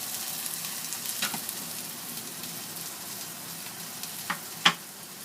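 A silver cod fillet with herbs pan-fries in a pan, giving a quiet, steady sizzle with a few sharper crackles and a louder pop near the end.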